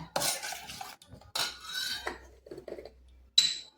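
Soft, wet squelching and stirring as a mix for Bengali steamed egg is worked by hand in a bowl with sour yogurt, in several short bursts with pauses and a faint clink near the end.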